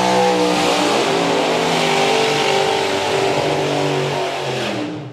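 A drag racing car at Santa Pod Raceway accelerates hard up the quarter mile, a loud, sustained engine roar with rising harmonic tones that holds steady for several seconds before beginning to fade.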